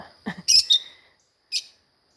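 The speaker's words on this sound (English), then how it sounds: "Such good birdies." Pet lovebird parrots give loud, sharp chirps in a quick cluster, then one more bright chirp after a short pause, close by with no talking.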